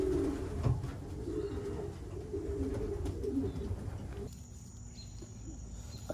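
Soft, low cooing from a baby pigeon being hand-fostered, a steady murmuring run of coos close by with faint chirps and background hum, no talk.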